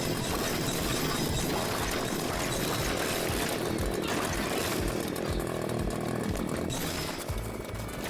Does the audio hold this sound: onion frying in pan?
no